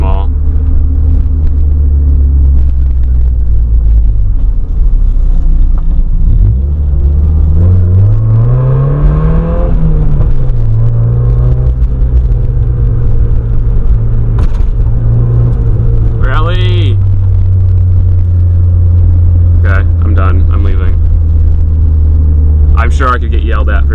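Loud lowered Mazda Miata engine droning low and steady while driving on small roads, with a brief rising rev, under continuous talk.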